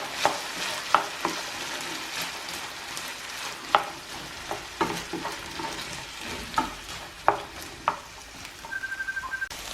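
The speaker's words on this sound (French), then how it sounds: "ونشحرها مع الدجاج." Onions sautéing with turkey in a pan, a steady sizzle broken by sharp scrapes and clacks of stirring, with a run of quick ticking taps near the end; no talk.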